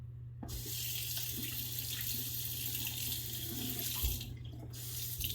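A tap runs steadily into a sink as shaving soap lather is rinsed off, a close, continuous rushing stream with a brief break near the end.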